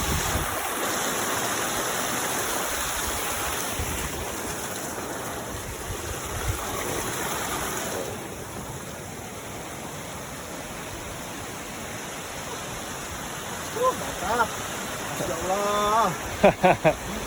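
Boiling hot spring water on Gede volcano in Indonesia rushes in a steady hiss as it pours into the ground, a continuous broadband wash that thins slightly midway, with a few short sounds breaking in near the end.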